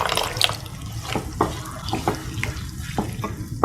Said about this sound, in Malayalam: ഇതിലേക്ക് 2 ടീസ്പൂൺ കോൺഫ്ലവർ വെള്ളത്തിൽ കലക്കി ഞാൻ ഇതിലേക്ക് ചേർക്കുന്നുണ്ട്